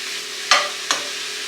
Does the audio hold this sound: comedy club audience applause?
no